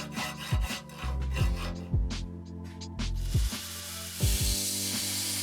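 Steel gladius dagger blade being filed in a file jig: a series of scraping, rasping strokes in an uneven rhythm, close and fairly loud, with no talking.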